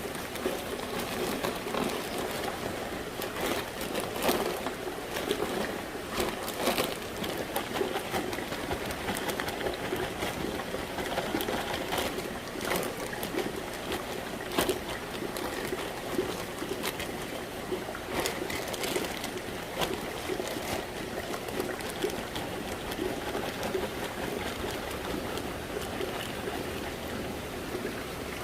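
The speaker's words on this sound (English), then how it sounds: "That noise you hear is the rain outside." Steady rain pours outside, a continuous hiss of drops with scattered sharper patters, heard from indoors at moderate level with no talking.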